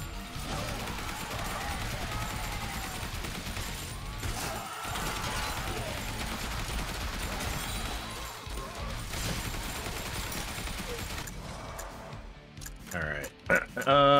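Assault rifle fire in a zombie survivors video game, dense continuous bursts of shots mixed with crashing impacts, loud and sustained, thinning out near the end.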